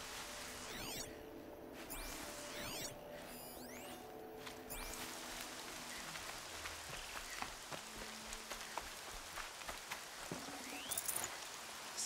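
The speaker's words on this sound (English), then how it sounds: "I love the rain." Steady rain falls in the open world of the Horizon video game, a continuous hiss of drops pattering on surfaces, with occasional whooshes and faint game effects passing over it.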